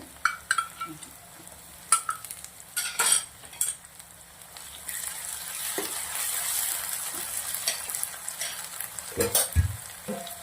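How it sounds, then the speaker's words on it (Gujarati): Steady sizzling of onion with ginger garlic paste frying in oil, with occasional scrapes and clinks of a utensil stirring in the pan. "2 મિનિટ ચડવા દેશું તેલના અંદર"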